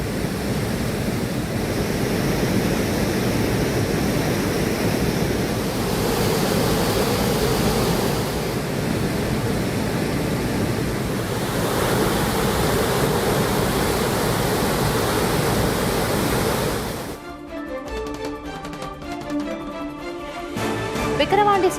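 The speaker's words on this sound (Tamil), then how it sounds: "தொடர் மழையால் மூலவைகை ஆற்றில் வெள்ளப்பெருக்கு" The flooded Moolavaigai river, swollen by continuous rain and running bank to bank, gives a loud, steady roar of rushing water that cuts off abruptly near the end.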